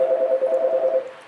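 A mobile phone rings indoors on a rooftop visit, a steady pulsing electronic tone that is moderately loud and fades out after about a second, with no speech over it.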